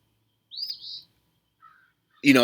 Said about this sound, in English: So this bird is not chilling. He just waited for me to do a video before he started screaming.